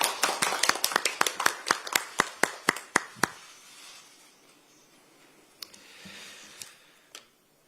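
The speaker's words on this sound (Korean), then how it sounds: "먼저 하정우 전 수석비서관을 큰 박수로 맞이해 주시기 바랍니다" At a Democratic Party of Korea recruitment ceremony, a dozen crisp, evenly spaced claps open the welcome for a former senior secretary, then thin out into a few isolated claps and quiet room tone.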